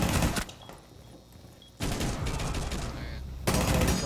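Gunfire in Rainbow Six Siege, loud bursts of rapid automatic shots in three separate volleys broken by short quiet gaps, close and harsh.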